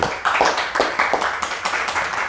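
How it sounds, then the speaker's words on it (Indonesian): A talk-show audience claps for a guest in a run of irregular, bunched hand claps, close and moderately loud, rising and falling in short bursts throughout with no talking over it. "Tepuk tangan untuk Fikri"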